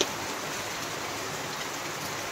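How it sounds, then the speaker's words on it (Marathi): Heavy monsoon rain pours down in Konkan, a dense, continuous hiss of drops on surfaces that holds steady throughout, with no voices. "आता इथून पाऊस दिसतोय बघा तुम्हाला खूप सारा."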